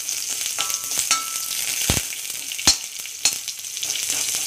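Chopped onions and fenugreek seeds fry in hot oil with a steady, close sizzle, broken now and then by a few sharp clicks of a stirring spoon against the pan.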